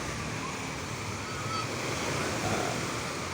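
Surf washing onto a beach at Lianga, Surigao del Sur, a steady broadband roar of waves with wind noise, continuous and fairly loud, no talking.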